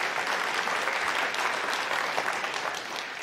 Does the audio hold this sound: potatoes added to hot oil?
no